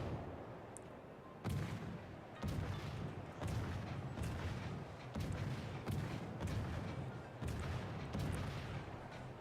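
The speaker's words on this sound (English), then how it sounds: "Launching many shells out to this cruiser over here, which is currently capturing, but taking a lot of fire." Heavy naval shells fired at a cruiser in a war video game: deep booming shots arrive in a slow, irregular series, loud and close over a rumbling battle din, with no talking.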